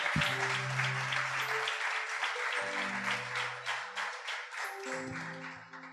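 A church congregation applauds steadily for about six seconds, dense clapping filling the room, with sustained low tones underneath like an organ or keyboard playing along and a slight tapering near the end.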